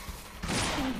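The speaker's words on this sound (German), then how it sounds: "ich habe gerade durch den Schuss scheinbar das Fass getroffen" In the game Deadly Premonition, a gunshot hits a barrel: a sudden loud burst of noise cuts in partway through and holds as a dense roar to the end.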